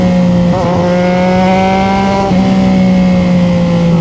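A 2025 CFMOTO 675NK motorcycle engine holds a high, smooth rev with a sustained tonal whine and brief pitch shifts, heard close and loud without talk.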